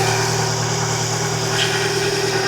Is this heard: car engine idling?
yes